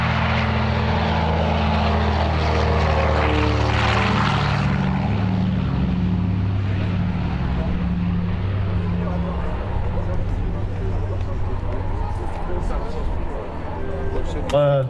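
A Douglas DC-3 propeller airplane climbing at an air show drones steadily with a deep, layered engine hum, loud and continuous throughout, with a voice talking over it.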